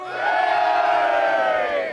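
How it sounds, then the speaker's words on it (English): A crowd cheers for rugby teams Castleford Tigers and Wakefield, a loud sustained roar of many voices yelling and whooping together for about two seconds. "give us a cheer"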